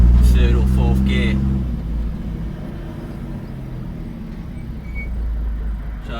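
A 1958 GMC Apache fleetside pickup truck pulls in low first gear, its engine a steady, loud close drone after a brief speaking voice at the start.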